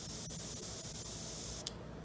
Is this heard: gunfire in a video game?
no